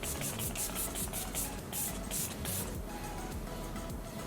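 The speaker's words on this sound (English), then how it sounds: "lock everything into place with the Kat Von D Lock It Setting Mist" Kat Von D Lock It setting mist sprayed as a fine spray in a quick series of short, soft spritzes that come in a rhythmic burst, then a quieter tail with faint background hum.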